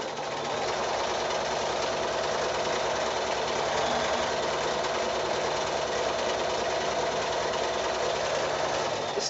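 A sewing machine runs at a steady, even pace while stitching a line down the middle of a quilt strip for a lock gate wall-hanging, its motor and needle chattering up close with no one speaking.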